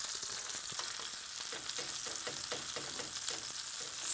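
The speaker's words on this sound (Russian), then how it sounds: "Но дальше продолжаем жарить, пока не вытопим весь жир." Steady, close sizzling of duck breast frying in a hot pan, rendering its fat, a constant crackle with occasional louder pops and no voices.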